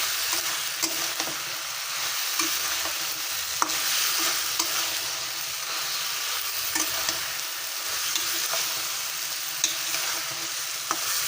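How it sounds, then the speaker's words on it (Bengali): Winter vegetables being stirred as they fry in a pan with salt, a steady sizzle under repeated scraping and clinking strokes of a spatula, close and unbroken. "সবজিগুলো আবার একটু নেড়ে দেবো।"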